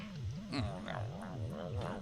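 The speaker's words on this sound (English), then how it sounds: "angry cat" A cat growls or yowls angrily in low, rising-and-falling waves, a fairly quiet, throaty sound repeating about five times in two seconds.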